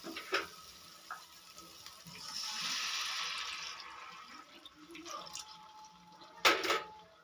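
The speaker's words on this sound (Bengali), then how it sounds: "খুব সামান্য পরিমাণে জল দিয়ে দিলাম" Water pours briefly into a pan of cooking masala for an eggplant curry, a soft rushing splash building for a couple of seconds, with faint clinks and a sharp knock near the end.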